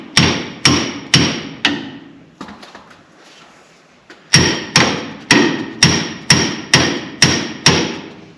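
Hammer blows on the front end of a dirt track race car, a fast run of four sharp metallic strikes, a brief pause with faint shuffling, then eight more evenly spaced loud hits ringing close by.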